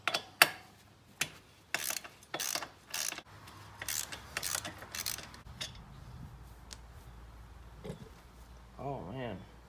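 Ratchet working the rear brake caliper bolts on a Hawk 250 motorcycle, heard as a few sharp close clicks and clatters of tool against metal, then quieter handling noises with a brief voice near the end.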